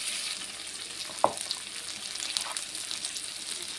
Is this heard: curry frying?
yes